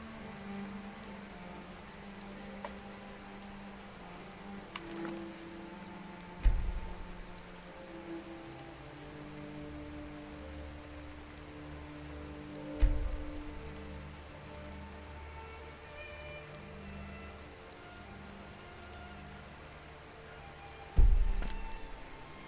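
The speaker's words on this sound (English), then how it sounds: "Bacon frying on a stove is what you hear in a game with rain." Steady rain pattering in a modded video game, a constant hiss of drops with a few soft, low thuds spaced through it, no voices.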